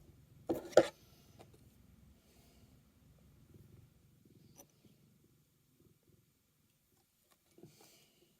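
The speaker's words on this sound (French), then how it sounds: "Oh, tu ronronnes!" A cat purrs softly at close range, a low rumbling murmur that comes and goes under near silence, with a couple of short louder rustles or handling noises near the start.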